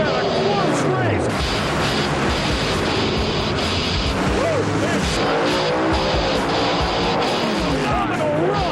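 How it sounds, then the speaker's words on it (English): Top Fuel drag racing cars roaring at an IHRA national event in Canada, a loud continuous engine blast with crowd noise and excited commentary running over it throughout. "Wow, what a drag race."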